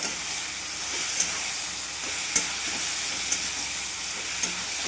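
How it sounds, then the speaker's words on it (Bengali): Cauliflower and potatoes frying in hot spiced oil while being stirred, a steady close sizzle and hiss broken by a few sharp clicks of a spatula against the pan. "ফুলকপি আলুগুলো দিয়ে দিয়েছি, এবার ভালো করে কষে নেব।"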